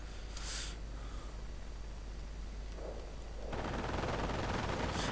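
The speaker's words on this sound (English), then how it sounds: "MG42 continuing to fire there" MG42 machine gun in a World War II strategy game firing in dense bursts, a rough continuous crackle that grows louder and thicker toward the end amid battle noise.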